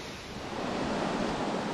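Waterfall at the lower Cascades in Litchfield National Park: a steady, dense rushing roar of falling water that swells slightly and holds constant, with no voices.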